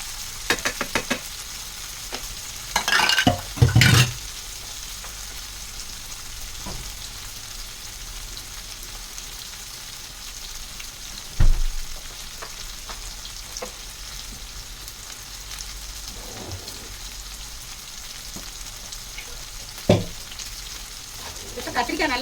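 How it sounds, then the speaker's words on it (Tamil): Brinjal pieces fry with turmeric and rock salt in a pan, a soft continuous sizzle broken by a few sharp scraping stirs and clatters early on and at intervals. "இப்போ கத்திரிக்காய் நல்லா வதங்கட்டும்."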